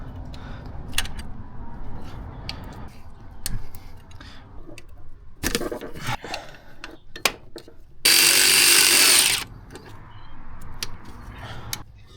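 Hand tools working loose the exhaust manifold bolts on a rusty old Nissan D21 Terrano: scattered metallic ticks and clicks of a ratchet, a few sharp clanks, and one loud burst of grinding rasp partway through.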